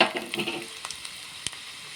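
Garlic and dried red chillies dropped into hot tempering oil with cumin and mustard seeds, crackling and sizzling close up with a few sharp pops as the sizzle settles into a softer hiss.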